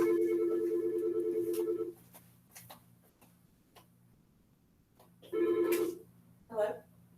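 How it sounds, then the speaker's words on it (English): A phone rings in two bursts, a steady electronic ring lasting about two seconds, then a pause with faint room sound, then a second shorter ring followed by a brief chirp, close and fairly loud. "Excuse me, my phone's ringing."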